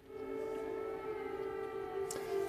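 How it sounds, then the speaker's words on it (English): Air raid sirens wail steadily around Lviv at night during wartime, a sustained mid-pitched tone with faint harmonics holding level for the whole stretch, heard from a distance with no talk over it. "the sirens around Lviv, the air raid sirens are going off"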